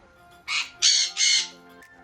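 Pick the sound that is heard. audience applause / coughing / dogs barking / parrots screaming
parrots screaming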